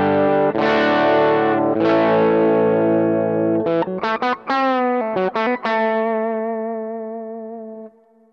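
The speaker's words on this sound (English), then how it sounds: "the cabinet emulation is pretty cool coming out of the XLR" Electric guitar played through a Tech 21 SansAmp Character Plus Mop Top Liverpool pedal with cabinet emulation, loud distorted sustained chords followed by quick choppy strums and a long ringing chord that slowly fades, with no talking.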